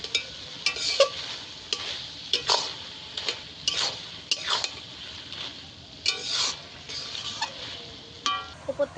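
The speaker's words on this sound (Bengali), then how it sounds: "জিরেটা দিয়ে ভালো করে একটু নেড়ে দেবো আলু সেদ্ধ হয়ে গেছে ভালোভাবে" A spoon stirs boiled potatoes with cumin in a frying pan, giving scattered scraping clacks and gentle sizzling at close range, with no talk.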